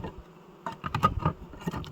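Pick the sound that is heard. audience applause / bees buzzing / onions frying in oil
bees buzzing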